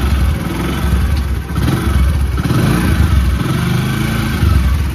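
A Bajaj CT 100 motorcycle engine, just fitted with a new spark plug cap, runs and idles nearby in a steady low putter that swells slightly a few times, with no talking over it.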